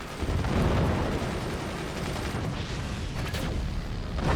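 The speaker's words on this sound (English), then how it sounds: "they're only firing one set of nukes" Nuke missiles launch in the Forts strategy game, a dense rumbling barrage of booming fire that swells at the start and holds as a continuous low roar, with no talk over it.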